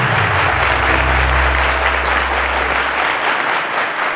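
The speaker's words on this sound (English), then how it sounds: "Ladies, a round of applause to Henry." Studio audience applause for contestant Henry after a tiebreak on the Cowbellpedia quiz show, a loud, steady wash of clapping over a low hum that runs throughout without pauses.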